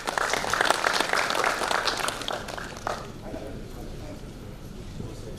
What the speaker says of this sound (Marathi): मनेर सर यांच्यासाठी जोरदार एकदा टाळ्या वाजवूया.